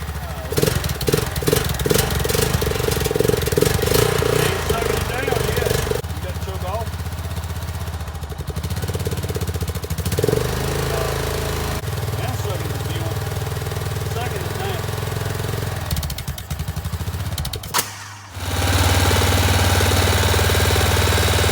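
A 2003 Honda Rincon 650 4x4 ATV engine runs with a loud, rough, steady chugging idle. Its pitch shifts slightly partway through, and near the end there is a brief dip before it settles again. People talk over the engine.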